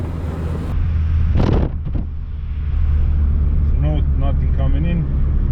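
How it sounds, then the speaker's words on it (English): Hydrogen-fuelled car accelerating at full throttle in third gear: a steady, loud engine drone with wind buffeting, briefly cut by a sharp clunk, while people talk over it. "Full throttle up. Third gear."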